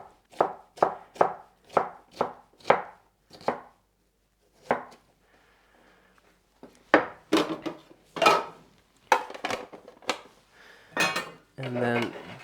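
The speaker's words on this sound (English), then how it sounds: "Long strips, and then cut everything into little cubes." Knife chopping vegetables on a board, first slicing long strips and then dicing them into little cubes: a quick run of crisp, evenly spaced chops up close, a short pause, then heavier, more irregular cuts.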